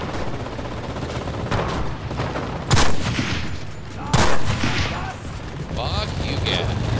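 Gunfire bursts from the WW2 shooter game Enlisted, with two louder shots standing out amid a dense, noisy battle backdrop, mixed with talking.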